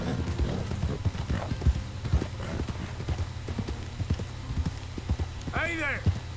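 Horse hooves clip-clop in a steady walking rhythm close by in Red Dead Redemption 2, over a low rumble, and a horse whinnies briefly near the end.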